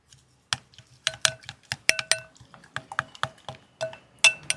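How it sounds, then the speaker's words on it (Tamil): Eggs and spices are beaten in a bowl with a fork: a quick, uneven run of light clinks and taps against the bowl, close and fairly quiet, with no talking. "இந்த பாருங்க அளவை நல்லா மிக்ஸ் பண்ணி விடுவோம்"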